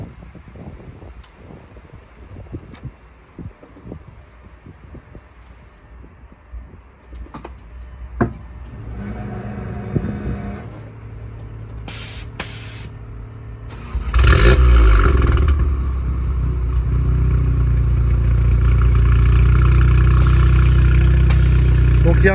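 Car engine with a fully de-catted, open exhaust line cranks over and fires up, then settles into a loud, steady, throaty idle after a quieter stretch of clicks and faint movement.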